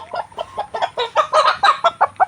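A layer hen on a poultry farm, where some birds have watery eyes, clucks about a dozen times in a quick, rhythmic string of short calls, loud and close, with no talking.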